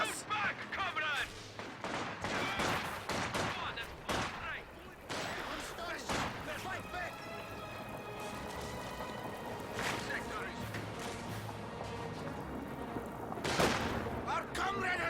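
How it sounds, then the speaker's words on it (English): Rapid bursts of gunfire and explosions in a team video game battle over tank sectors and supplies, loud and dense throughout, with excited voices commentating over the shooting. "Why are they shooting at us?"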